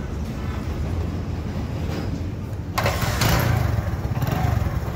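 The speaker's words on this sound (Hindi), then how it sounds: "अच्छे तरीके से आप बाइक को स्टार्ट करते हैं, यही पुराना सिलेंडर जो जेन्युइन है हमने रिपेयर किया है।" A motorcycle with a repaired genuine original cylinder is started; a steady low engine rumble runs throughout, with a sharper burst of starting noise near the middle as the engine catches and keeps running loudly.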